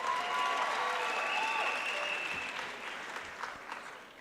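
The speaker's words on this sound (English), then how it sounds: "Can you clap hands for yourselves?" University graduation ceremony audience clapping for themselves, a dense crowd applause that is fairly loud at first, then gradually tapers off with a few scattered louder claps near the end.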